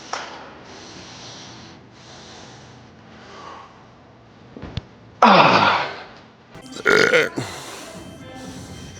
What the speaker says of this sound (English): I should have burped in the camera.